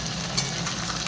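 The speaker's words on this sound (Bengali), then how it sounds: "একটা পিস ভাজছি।" A piece of paneer fries in a pan with a soft, continuous sizzle heard up close, an even hiss lasting about a second with no voices.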